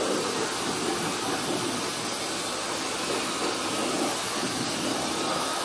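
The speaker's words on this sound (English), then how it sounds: "It's just a dryer. Calm down. It's just a dryer." A pet dryer blows steadily to dry off a pet, a loud continuous broadband roar and hiss that holds unbroken from start to finish, with no voices over it.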